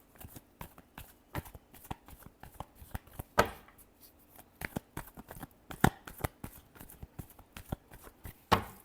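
Tarot cards riffled and shuffled by hand in a quiet room, a string of crisp papery flutters and taps with a few sharper snaps, close and fairly soft.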